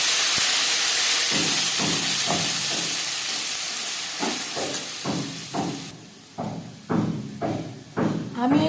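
Onion frying in hot oil with crushed garam masala, a steady loud sizzle and hiss that fades, then rhythmic stirring scrapes and thumps in the pan.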